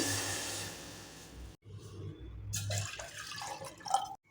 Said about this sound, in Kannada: ನಾಲ್ಕು ಕಪ್ ಆಗಷ್ಟು ನೀರು ಹಾಕ್ತಾ ಇದ್ದೀನಿ